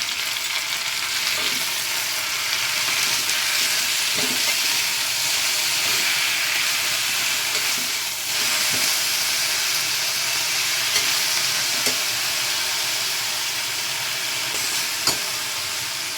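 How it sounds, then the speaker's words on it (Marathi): A loud, continuous hiss of amaranth greens frying in a hot tempering, steady throughout, with occasional soft clicks of stirring. "आपण आता ही भाजी फोडणी टाकली"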